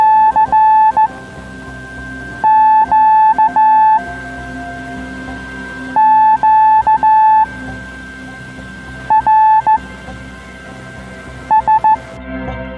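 Slow Morse code received on the 80-metre amateur radio band, a steady high beeping tone keyed in short and long bursts with pauses between groups, over a constant background of radio hiss and noise.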